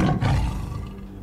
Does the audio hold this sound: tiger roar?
yes